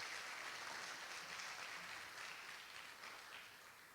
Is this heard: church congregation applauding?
yes